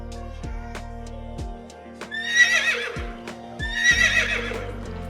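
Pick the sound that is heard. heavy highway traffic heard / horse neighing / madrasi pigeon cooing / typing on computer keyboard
horse neighing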